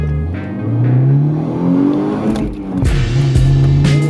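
A Toyota Altezza accelerates from a start, the engine revving up with rising pitch, dropping briefly at a gear change, then climbing again, loud and close inside the car.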